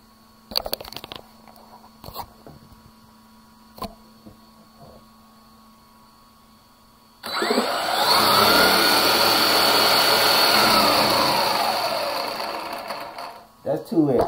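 A Granite 3S at 75% throttle lets out a loud, high motor whine that holds for about six seconds and then winds down, preceded by scattered handling clicks and brief talk.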